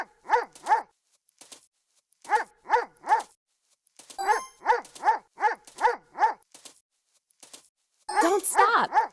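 Lucky the dog, guarding carrots from hares, barks in quick bursts of two to four sharp yips separated by pauses, loud and close, ending in a rapid flurry.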